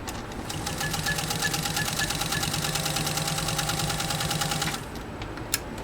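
A 1940 Singer 201-2 sewing machine, run from a Bakelite foot controller, stitches through 14 oz vegetable-tanned leather with a fast, even, steady hum and rapid needle ticking that stops abruptly, followed by a single small click.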